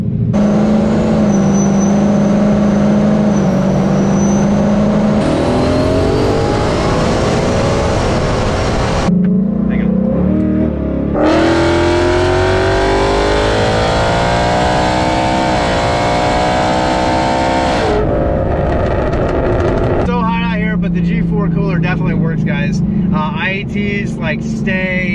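Engine of a supercharged 2022 Ford Mustang GT as it drives and accelerates, rising in pitch through gear pulls with brief drops at shifts, loud and close from inside the car, with some talk over it.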